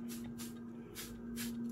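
A hand spray bottle mists water over potted plants in quick, soft bursts. Four short hissing sprays repeat close by and fairly quietly over a faint steady hum.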